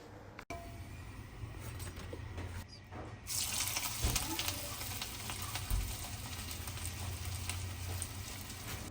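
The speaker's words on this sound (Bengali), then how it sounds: "গরম গরম ঝাল পিঠা ভাজা হচ্ছে।" Spicy pitha, a Bangladeshi rice cake, fries in hot oil in a village kitchen with a steady, close bubbling hiss that swells after a brief pause and carries on without talk.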